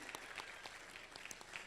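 Audience applause at an honours ceremony in Bhiwani, a faint, steady patter of clapping from a gathered crowd with no voices over it.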